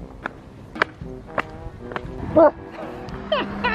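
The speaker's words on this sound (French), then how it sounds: "Je vais enregistrer des bruits de pas." Footsteps sound on the ground in uneven, spaced steps, with a louder scuffing burst midway and faint insect-like buzzing in the background.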